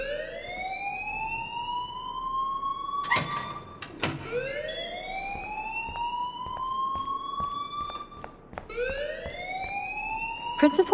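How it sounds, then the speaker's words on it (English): A school fire alarm in the video game Life Is Strange wails in repeated rising siren sweeps, steady and prominent, with people talking over it and a few sharp knocks. "please turn off that alarm since that's your job"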